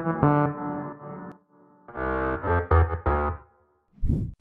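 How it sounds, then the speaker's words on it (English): Electronic synth lead sounds from an FL Studio drop, played one after another as short separate sustained tones with brief silences between them, the last a quick burst. "The drop leads consist of four sounds which individually sounds like this."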